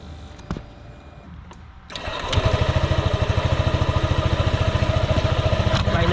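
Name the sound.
Honda ADV 150 scooter engine running after oil change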